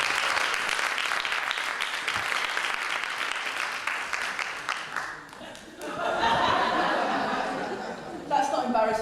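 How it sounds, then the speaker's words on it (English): An audience at a women's conference bursts into sustained applause for a guest, dense clapping with some laughter, then a brief dip before more clapping and chuckles resume. "please could you give Sandy a massive round of applause"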